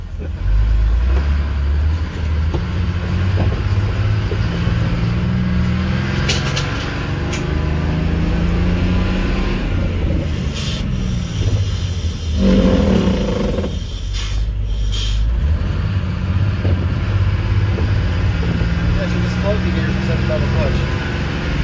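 A prewar Silversides bus engine on its first road test labors and rumbles steadily as the bus pulls out, with a few gear clunks. Voices talk over the drone throughout.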